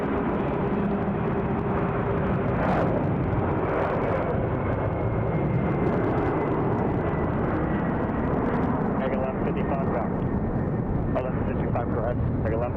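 Boeing 747 jet arriving heavy from Anchorage, Alaska: a loud, sustained broadband engine roar that fills the whole stretch, with muffled voices faintly mixed underneath.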